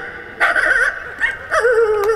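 A voice imitates a dog yelping after being hit by a thrown stone, giving a few loud, high, wavering yelps close up that rise and fall in quick bursts.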